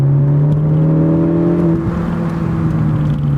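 A stock 2018 Ford Focus ST engine pulls hard on a race track, a loud close droning tone that climbs in pitch under acceleration, then shifts and settles for the last couple of seconds.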